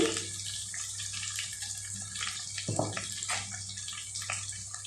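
Tamarind water poured into a pan of masala vada and brinjal stew, a steady watery pour running throughout with a brief louder splash partway in, close and alone.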